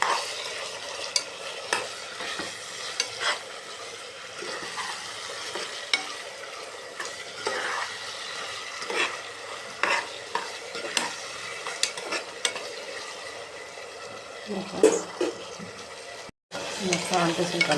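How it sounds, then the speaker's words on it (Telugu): Tomatoes with salt sizzle steadily in a pan for masala chaap curry while a spoon scrapes and stirs in repeated strokes, close and continuous. "సాల్ట్ వేసుకొని కలుపుకుందాం."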